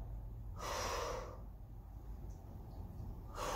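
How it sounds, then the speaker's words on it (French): Breathing during a dumbbell workout, two loud breathy exhales or inhales separated by a quiet stretch, close to the microphone with no talking. "on souffle, on inspire"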